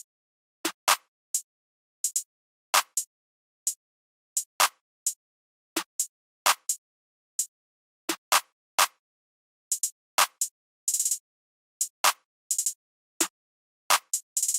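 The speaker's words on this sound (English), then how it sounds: "it's a pretty simple snare pattern which sounds like this" A simple snare pattern built from a crisp carrot snare sample out of a drum kit, sharp bright hits in a sparse, uneven rhythm that speeds into quick rolls in places, played alone.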